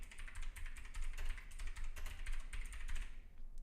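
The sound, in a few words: typing on a clicky computer keyboard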